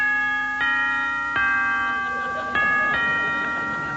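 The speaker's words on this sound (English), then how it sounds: "ring the bell." A palace front doorbell rings three times in a slow sequence, each ring a sustained electronic chime tone that lingers and overlaps the next, heard clearly on its own with no voices.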